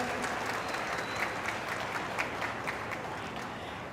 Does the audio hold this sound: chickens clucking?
no